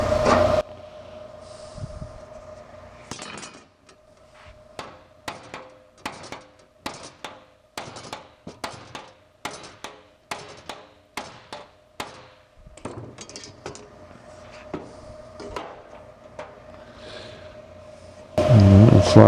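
Hammering a sheet metal flange on a patch panel, with a long run of sharp, evenly spaced metallic blows, close and loud, with brief background noise at the start and end.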